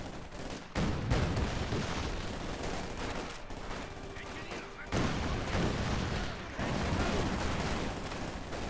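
Dense gunfire and a grenade blast in a Company of Heroes 2 battle, with sustained rattling volleys, heavy booming impacts and sharp cutoffs, loud and continuous, mixed with game voice callouts.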